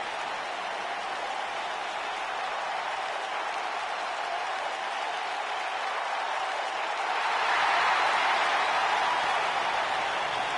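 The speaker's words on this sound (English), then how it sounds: "it sounds to me like the crowd is more than ready for this one" A WWE 2K19 video game arena crowd before an Extreme Rules match, heard as a steady, dense roar of cheering and applause that swells louder toward the end.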